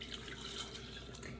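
One cup of water poured into a mixing dispenser for red velvet cupcake batter, a steady close splashing stream heard alone.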